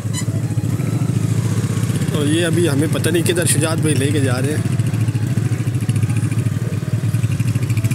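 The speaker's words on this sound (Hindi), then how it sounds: "बाइक चला रहे हैं" A motorcycle being ridden gives a steady, loud engine drone under the whole stretch, with someone talking over it throughout.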